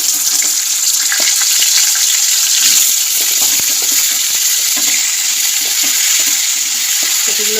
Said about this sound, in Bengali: একটু তেল দিয়ে দেবো, একটু এবার আমি কপিগুলো ছেড়ে দেবো।